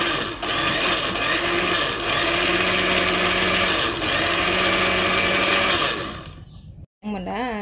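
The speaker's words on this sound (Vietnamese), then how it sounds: "Xay thì nó hơi ồn ha," Blender grinding corn kernels for corn ice cream, a loud steady motor whine with a constant grinding roar that runs for about six seconds, then cuts off, followed by a brief rising and falling whir as it spins down.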